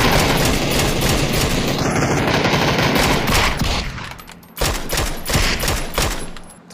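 Video game gunfire: loud, sustained rapid automatic bursts roar continuously, then break into separate shots and short volleys toward the end, close and dominant with no talking.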